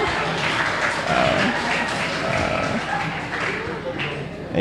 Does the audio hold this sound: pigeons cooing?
no